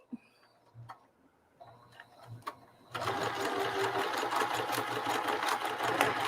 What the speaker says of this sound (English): we're gonna sew from point to point